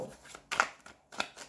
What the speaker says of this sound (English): I didn't shuffle this deck. So I'm shuffling it now for Leo.